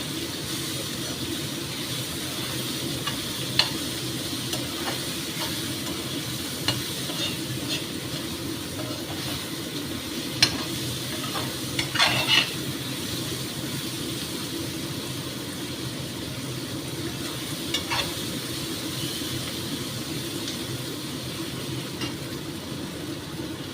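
Kohlrabi curry being stir-fried in a pan, a low steady sizzle and hiss with occasional scrapes and clicks of a spatula, fairly quiet and continuous with no voices.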